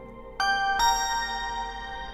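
Synthesizer bell tone pitched down into lower octaves, two struck notes in quick succession with bright metallic overtones that ring on and decay slowly.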